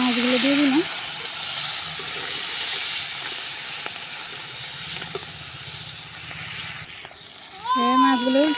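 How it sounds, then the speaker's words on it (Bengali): Bata fish fry in hot oil with a soft, steady hiss running under the scene, while voices are heard briefly at the start and again at the end. "তেল গরম হয়েছে, এখন মাছগুলো দিয়ে দিব।"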